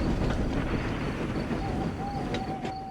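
A rumbling train from the Thomas the Tank Engine series, with a rising metallic squeal as the brakes bite, steady and fairly loud, no voices.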